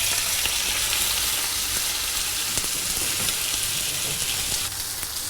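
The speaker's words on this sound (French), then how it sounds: "nous allons saisir le vivano dans une poêle bien chaude à l'huile fumante" Snapper fish searing in a very hot pan of smoking oil, a steady close sizzle with dense crackling spatter that holds loud and even throughout with no talk.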